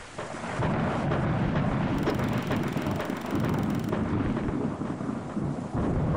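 Heavy rain and rolling thunder in the PS1 demo game Spectral Mall form a dense, loud, continuous roar with surging low rumbles and no voices.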